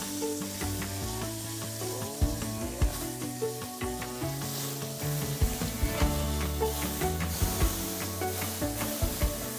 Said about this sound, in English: So while our steaks are searing